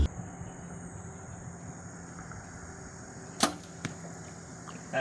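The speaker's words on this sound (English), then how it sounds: "I've never been around a crossbow that shot that was that quiet." A single crossbow shot fired with a heavy arrow, a sharp, brief snap and thump that is notably quiet, followed by a fainter knock, set against a low outdoor hum.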